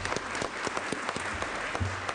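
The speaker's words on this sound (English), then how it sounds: "give a very enthusiastic and a very warm round of applause for our teachers and students who made that trek today" Warm applause fills the California Senate chamber for visiting teachers and students, a continuous patter of many hands clapping at moderate distance with occasional sharper individual claps standing out.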